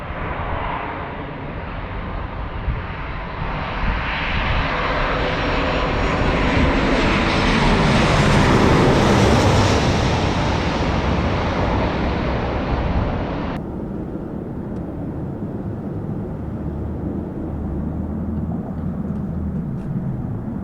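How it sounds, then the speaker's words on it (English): A Southwest Boeing 737-800 airliner on short final approach into San Diego roars steadily overhead, its jet engine noise swelling to a peak before easing off into a sustained, lower rumble. "on short final, Southwest 2881, a Boeing 738"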